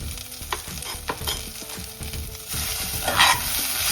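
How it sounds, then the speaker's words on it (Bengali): Potatoes fry in a pan with onions that are already browned, as for a small-shrimp jhal chachori, with a steady sizzle broken by scraping and clacking stirring strokes. The sizzle grows louder near the end, and no one speaks. "আলুটা একটু ভাজা ভাজা হবে।"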